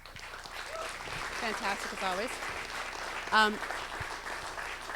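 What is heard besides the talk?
audience applause for moderator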